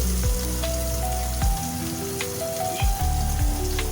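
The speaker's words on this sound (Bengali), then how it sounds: "এরপরে আমি দুটো পেঁয়াজ ছোট করে কেটে রেখেছিলাম দিয়ে দিয়েছি" Finely chopped onions fry in hot oil for an egg curry, giving a continuous crackling sizzle broken by occasional spatula scrapes against the pan.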